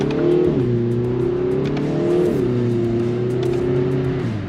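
A 2023 Kia Forte GT with stock exhaust and a dual-clutch transmission pulls hard from inside the cabin, its engine note climbing steadily with two quick shift drops, loud and continuous.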